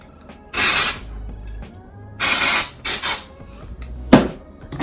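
Hairspray is sprayed onto hair in short hissing bursts, close and fairly loud, separated by quiet pauses with small handling noises.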